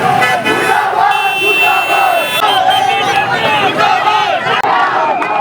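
Loud outdoor crowd at a street protest over a paper leak in Vikasnagar, Uttarakhand, with many voices shouting and chanting together, close and continuous, with car horns tooting in the mix.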